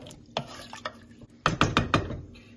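A spoon stirs rice with water and salt in a pot for jeera rice, making a few sharp scraping clicks on the metal, first sparse and then a quick cluster of four or five, with no talking.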